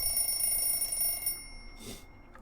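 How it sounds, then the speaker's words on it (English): A constant high electronic ringing tone sounds in the horror visual novel Everlasting Summer, loud and steady at first. It drops off partway through, leaving faint hum and a brief soft noise. "the ringing seems to be coming from the depths of my consciousness"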